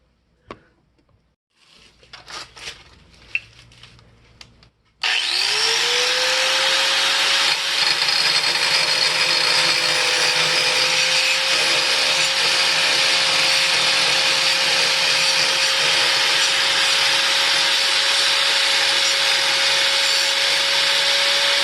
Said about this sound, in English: I'm gonna have to do a little bit of sanding here first.